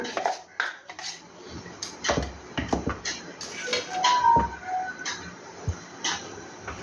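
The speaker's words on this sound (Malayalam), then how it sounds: "ഇനി രണ്ട് മാവും കൂടി ഒന്ന് മിക്സാക്കാം" Two batters are mixed together in a bowl with a spoon, giving irregular light clinks, taps and scrapes against the bowl at close range, with no one speaking.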